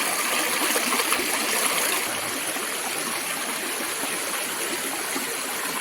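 A fast waterfall stream in a forested mountain gorge rushing steadily, a loud, continuous roar of water that never lets up.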